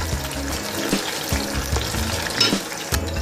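Beef kebabs fry lightly in oil for a kebab biryani, a busy close sizzle with bubbling and a few clinks and shuffles as the pieces are moved, steady throughout with no speech.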